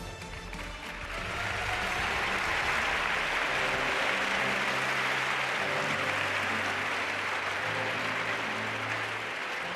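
Large crowd at the MotoGP Awards in Valencia applauding, a dense sustained roar of clapping that swells after the first second and holds steady for nearly ten seconds.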